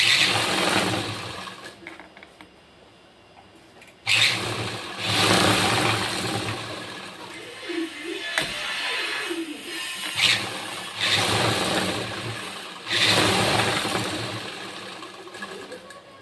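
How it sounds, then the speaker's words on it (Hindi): A sewing machine stitches embroidered blouse fabric with a double line of stitching, its motor whirring in several close, loud bursts separated by brief pauses. "ठीक है, एक पैर की सिलाई छोड़ के हमें सिलाई लगा देंगे, पक्का कर देंगे डबल सिलाई।"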